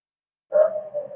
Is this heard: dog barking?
yes